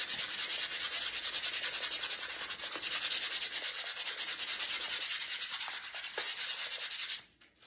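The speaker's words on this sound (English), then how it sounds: "you want fine grit sandpaper. This is 320. And you are gonna want to sand your back of your plate." Fine 320-grit sandpaper rubs back and forth over the back of a decorative plate in quick, even strokes, close and fairly loud, stopping just before the end.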